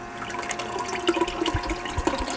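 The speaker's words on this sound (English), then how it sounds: "It's a battery powered pocket pump, it's called. And it's just this, literally that." A small battery-powered pocket pump draws water, giving a gurgling, splashing liquid rush with a few louder low gulps, close by and brief.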